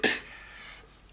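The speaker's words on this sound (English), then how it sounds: "I have a cough" A single sharp cough bursts out at the start, close and fairly loud, then trails off into quiet room tone.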